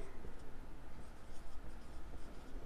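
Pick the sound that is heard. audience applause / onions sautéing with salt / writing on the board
writing on the board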